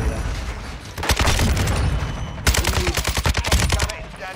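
Rapid video game gunfire, loud and close, in two long bursts of dense automatic shots with booming impacts, separated by a brief pause.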